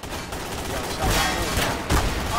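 Gunfire from Garry's Mod DarkRP, a short clustered volley of loud cracking shots with a dense, noisy backdrop over about two seconds.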